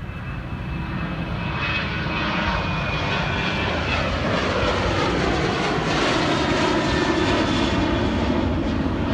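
Delta airliner taking off from runway 27 right at Atlanta airport, a loud, sustained engine roar building steadily throughout with a rising whine, no voices.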